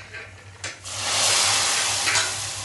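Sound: fried tempering added to dried fish curry

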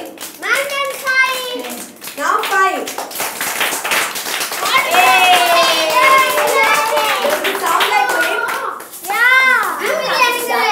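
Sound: children clapping hands

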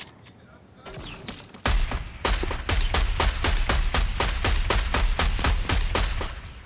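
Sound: automatic sniper rifle gunfire in Fortnite video game

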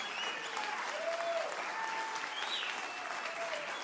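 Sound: church congregation clapping for pastor

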